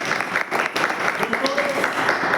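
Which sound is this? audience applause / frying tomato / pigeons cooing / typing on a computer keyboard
audience applause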